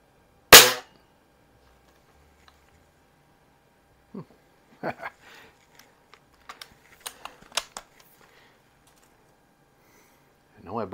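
An Anschutz model 335 break-barrel spring air rifle fires a sharp, loud crack near the start, followed by scattered mechanical clicks and clacks of handling, then another shot at the end; faint voices sit in the background.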